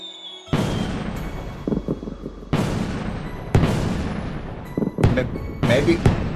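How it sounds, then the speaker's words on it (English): Fireworks burst in the video game Trails in the Sky: The 3rd during a 4th of July scene, a series of loud booming explosions with crackling tails, several heavy blasts spaced a second or two apart. "It's fireworks!"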